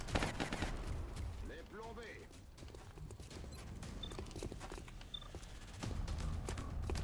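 Rapid bursts of gunfire from the turn-based strategy game Long War, a dense crackling fusillade running through the clip under a voice and game effects.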